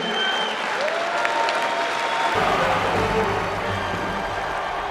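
Thunderous applause from a large crowd, a continuous loud roar of clapping that keeps swelling and stays steady the whole way through.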